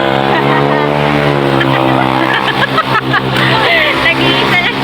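A car drives off with a loud, continuous engine hum and some tire noise as it pulls away, while several people talk and call out over it.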